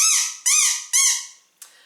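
A plastic toy ball with a smiley face, found mudlarking along the River Thames, squeaks three times in quick succession. Each squeak is a loud, bright, wavering whistle that fades away, and a brief fourth chirp follows.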